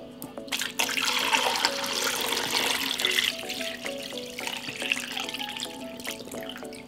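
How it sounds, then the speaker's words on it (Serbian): Cold water pours into a large pot holding about 3.3 kg of washed pork legs, a steady loud running gush with trickling and splashing that eases slightly toward the end. "stavit ću ih u jednu veću šerpu i prelit ću sa hladnom vodom"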